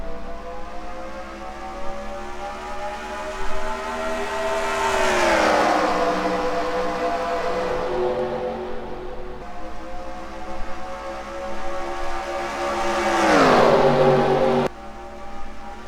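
At the green-flag start of the Fanta 600 stock car race, a field of race cars roars past with loud, rising and falling engine drones, two distinct passes sweeping by with strong Doppler pitch drops.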